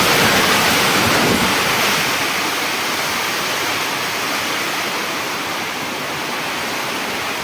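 Steady, dense roar of wind-driven rain, loud and continuous throughout with no voices, like a heavy downpour lashing close by.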